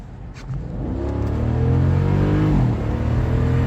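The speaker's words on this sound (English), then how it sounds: "I'm gonna go ahead and step on a little bit so y'all can kind of hear the engine" A 2017 Jeep SRT engine revs up steadily under acceleration, a deep rising rumble that climbs, dips briefly at a shift, then continues close by.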